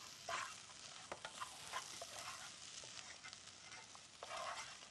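Vegetables sauté in a hot pot before soup is added, a faint steady sizzle with soft scraping stirs and occasional light clinks, no voices.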